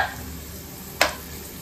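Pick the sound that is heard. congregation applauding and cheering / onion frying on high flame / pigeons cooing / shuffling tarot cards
onion frying on high flame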